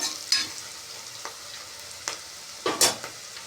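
Food sizzles softly in a pan, a quiet hiss broken by a few short, sharp scrapes and stirring clicks spaced irregularly, close and with no talking.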